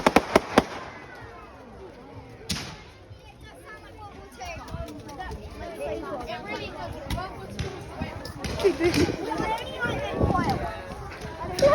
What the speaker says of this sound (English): Flare gun. Flare gun.